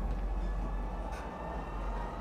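Metro train in the game Star Citizen rumbling along, a steady low rolling drone with faint rail noise and a brief higher swish midway, fairly quiet and continuous.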